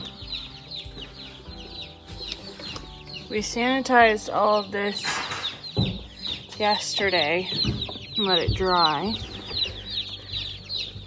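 Meat chickens on a homestead cluck and chirp steadily in the background of a freshly cleaned coop, continuing beneath close conversational speech from people setting up water and equipment.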